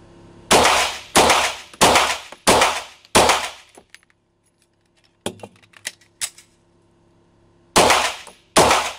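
Sarsılmaz ST9 shotgun firing on a range, five sharp loud reports in an even rhythm, then a pause with small clicks and handling clatter, followed by two more shots.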